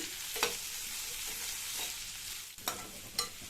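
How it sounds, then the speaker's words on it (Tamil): Sliced turnip sautéing in a pan over a low-medium flame, a steady sizzle with a few sharp spatula scrapes and stirs breaking through. "இந்த டர்னிப்பை சேர்த்துட்டு ஸ்டவ்வை லோ மீடியம் ஃப்ளேமில் வச்சுட்டு ஒரு 4-5 நிமிஷத்துக்கு நல்லா வதக்கிக்கணும்."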